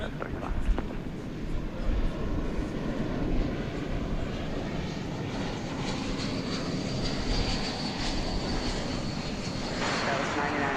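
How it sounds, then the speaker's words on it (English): An airliner arriving from San Francisco at DFW Airport gives a steady, broad engine roar that holds at moderate distance. Faint talk is heard under it. "as we wait for the incoming flight from San Francisco"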